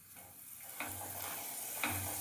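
Rolled sweet paratha dough fries in hot oil, a soft, steady sizzle, close and fairly quiet, with two brief bursts of louder crackle about a second apart.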